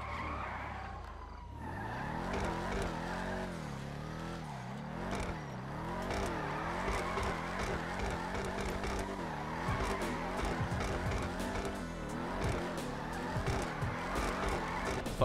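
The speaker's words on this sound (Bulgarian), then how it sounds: "Ето, перфектно място за донати." Tires squeal in long, wavering rising and falling swoops as a car does donuts in GTA 5, with the engine revving throughout and no talk.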